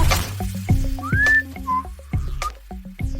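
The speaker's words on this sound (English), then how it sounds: "Why are you whistling?" A person whistles a short, lively tune of rising and sliding notes over a plucky, rhythmic musical backing, the whistle clear and close.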